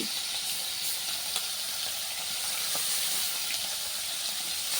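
Small fish fry in hot oil, giving a steady hissing sizzle with occasional spits and crackles, close and continuous with no talking.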